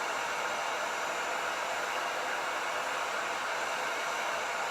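A heat tool blows a steady, loud, continuous hiss of hot air while drying torch paste on a wooden board, with no talking.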